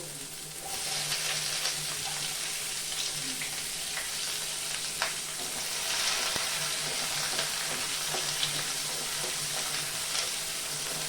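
Crushed ginger, garlic and chopped onion fry in hot oil, a steady close sizzle that holds for the whole stretch with faint stirring scrapes and small crackles.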